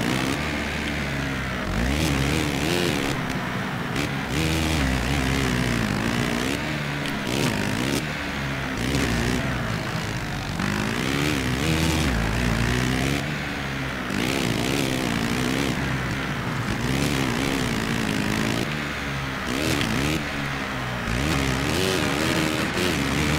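A motocross bike's engine in the MX GP racing game revs and accelerates continuously, its whine rising and falling loud and close throughout, with no talk.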